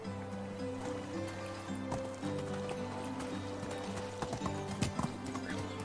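Horse hooves clip-clop steadily in the medieval life-sim game Medieval Dynasty, a trotting rhythm over a continuous tonal background with an occasional whinny, close and clear, no one speaking.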